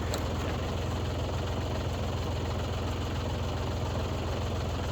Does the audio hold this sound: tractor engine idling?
yes